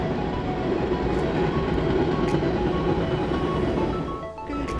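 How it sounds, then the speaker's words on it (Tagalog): Train rolling past near a cemetery, a loud continuous rumble and rattle of wagons throughout with faint squeals on top, no talking. "Ayun ang train."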